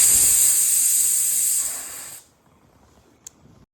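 A pressure cooker cooking dal with tomato lets out a loud, close whistle-hiss of escaping steam that cuts off after about two seconds, leaving quiet kitchen background with a faint click.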